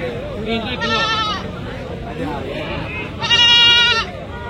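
Female goats bleat loudly in two wavering bursts at a goat market in Kadiri, over a busy background of people talking nearby.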